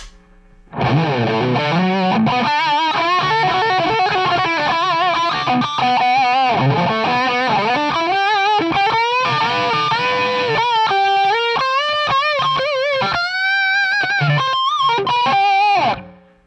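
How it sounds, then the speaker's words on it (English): Electric guitar through a Rat classic distortion pedal into a Marshall amp, from a Line 6 rig with Variax, DT25 head and Pod HD500, plays a loud, sustained distorted solo line with bent notes, starting after a brief silence and cutting off near the end. "adding more of like a Rat classic distortion on top of the Marshall"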